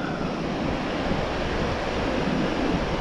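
Rough ocean surf and heavy swell roar steadily alongside strong wind buffeting the microphone, forming a loud, continuous wash of noise with no voices.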